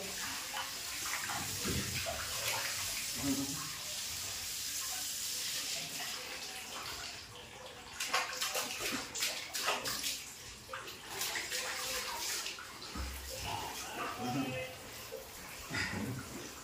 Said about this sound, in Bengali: ওপর থেকে জল পড়ছে